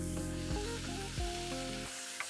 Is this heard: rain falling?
no